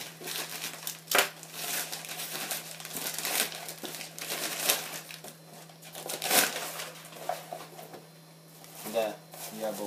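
Cardboard parcel box from a Taobao order being opened, with plastic packaging crinkling and rustling in bursts of crackle and a few sharper crunches, close and moderately loud over a steady low hum.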